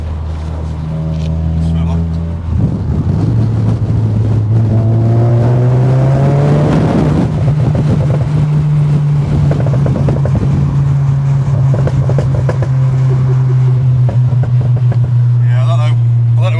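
A loud Stage 3 500 bhp Mk3 Seat Leon Cupra R engine, idling, then blipped up and held at a high droning rev before easing down, close and powerful, with a voice talking over it.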